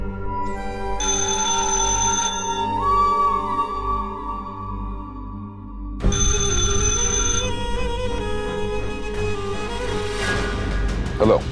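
A telephone rings in two long electronic ringtone bursts indoors, separated by a pause, with background music and noise underneath.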